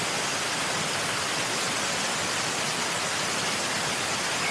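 Puray Waterfalls in Rodriguez, Rizal, Philippines pours down in a dense, steady hiss and roar, loud and unbroken throughout with no voices.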